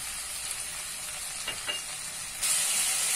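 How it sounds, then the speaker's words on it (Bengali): Onions fry in a pan with chili, turmeric, ginger-garlic paste and sugar, giving a steady close sizzle that grows louder and hissier near the end, with no voices. "পেঁয়াজটা ভাজা ভাজা হয়ে গেছে, এর মধ্যে আমি এখন লঙ্কা আর হলুদটা দিয়ে দেব।"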